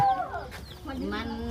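Chickens cluck softly nearby in a short burst of low, murmuring calls, with faint background sound.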